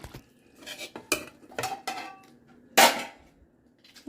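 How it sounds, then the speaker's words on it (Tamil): Rice is mixed with crab pepper gravy on a plate, producing several scattered close clinks and scrapes of metal on dishware with quiet gaps between them and no talking. "நான் இப்போ சாப்பாடுக்கு மிக்ஸ் பண்ணி சாப்பிட்டு பார்ப்பேன்"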